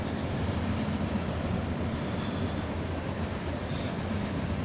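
BNSF northbound grain train bound for Castle Rock, Washington, rolling past nearby, a loud continuous broadband rumble of railcars and wheels on track that holds steady throughout, with brief higher squeals coming in and out; no one speaks.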